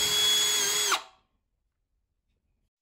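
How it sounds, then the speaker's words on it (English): A power drill pilots a hole into a 1.5-inch wall stud, marked with masking tape on the bit: a loud steady high whine for about a second that winds down into silence, then a brief restart at the end. "when I'm drilling or piloting the hole"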